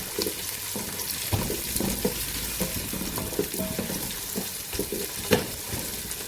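Carrots being stirred in a frying pan for a Turkish vegetable soup, with a steady broadband sizzle and repeated scraping, clattering strokes of the spoon close by, no talking.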